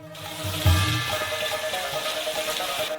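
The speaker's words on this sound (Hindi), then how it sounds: "सभी पर पानी डालते हैं।" Water pours steadily into a wok of sauce during stir-fry cooking, a continuous rushing splash with a brief heavier gush early on, close and alone.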